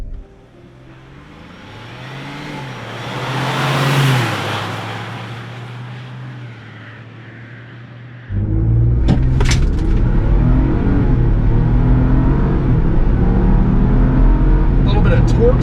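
A Roush Bronco with the 2.7L performance pack is launched from a standstill in a 0-60 run, its engine rising loudly through the revs, then an abrupt shift to a louder, rougher roar with wind noise.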